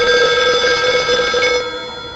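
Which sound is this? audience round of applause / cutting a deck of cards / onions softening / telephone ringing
telephone ringing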